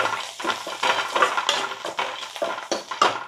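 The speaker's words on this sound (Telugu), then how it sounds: "సో నెక్స్ట్ కొద్దిగా కొత్తిమీర వేసుకుందాం ఫ్రెండ్స్. మంచిగా కలపండి." Spoon stirring a curry with curry leaves and coriander in a metal pot, repeated scraping and clinking strokes in a quick irregular rhythm, close and fairly loud with no talking.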